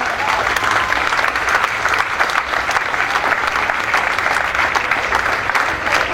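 Cabaret audience claps steadily and fairly loud throughout, a continuous wash of many hands with no pause or talk.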